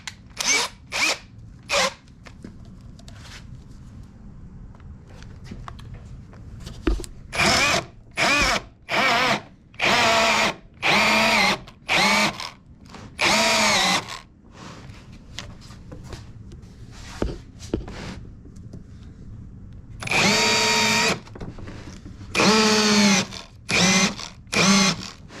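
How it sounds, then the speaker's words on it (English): Repeated bursts of a power drill with a half-inch bit boring into wood for a workbench, on and off with pauses between, near and fairly loud. "So we're going to drill into this right now."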